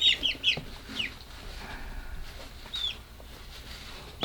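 Chickens at a farm coop let out a few sharp, high squeaky squawks like dog chew toys, clustered at the start and again near the end, fairly close, over a quiet background.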